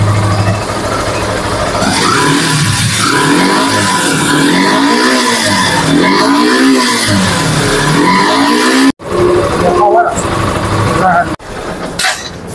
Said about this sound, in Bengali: এখন যদি আমরা ইঞ্জিনের সাউন্ড কোয়ালিটি শোনাতে চাই, ইঞ্জিনের সাউন্ড কোয়ালিটিটা দেখবেন খুবই সুন্দর আছে